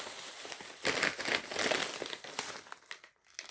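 Plastic bag full of lollipops being crinkled and handled up close, irregular crackling rustles that swell in the middle and fade near the end.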